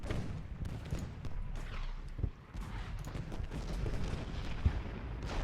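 Cannon artillery fire in the Civil War strategy game Ultimate General: Gettysburg, heard as scattered booming shots and crackling volleys over a dense battle din, with a few sharper reports standing out.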